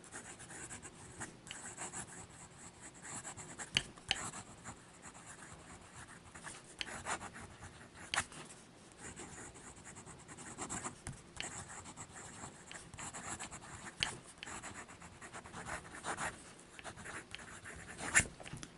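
A Conklin Duragraph fountain pen scratches across paper in close, quick strokes and swooshes, a continuous soft rasping with small ticks as the nib lifts and lands.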